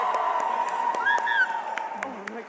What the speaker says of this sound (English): Another round of applause for team!